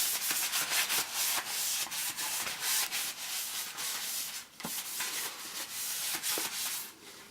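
Kitchen towel rubbed round a greased baking tin, a steady close-up scrubbing and rubbing with soft repeated swipes, no talking.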